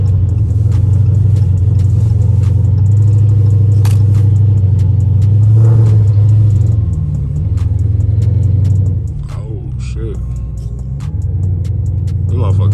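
Engine of a modified Dodge Charger on a snowy road, a loud steady low rumble that rises and falls while the car slides and loses traction. Someone talks over it.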